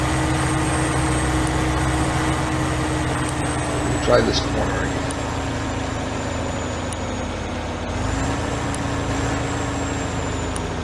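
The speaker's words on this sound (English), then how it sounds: "the tractor's having a hard time pulling 3 trailers" Challenger tractor in Farming Simulator 15 straining to pull three trailers on a Nebraska farm map, a steady low engine drone held throughout, with someone talking over it.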